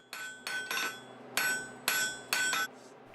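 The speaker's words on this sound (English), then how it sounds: "go back to the center of the anvil and with the flat face start refining that surface" A forging hammer's flat face strikes metal at the centre of an anvil, six ringing blows in a loose rhythm, bright and clangy, close and alone.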